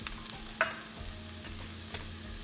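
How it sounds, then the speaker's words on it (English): Keema samosa filling with fresh chilies, cilantro and peas is stirred in a hot pan, giving a soft, steady scrape and light sizzle with one brief sharper knock near the start; no voices. "just give it a big stir"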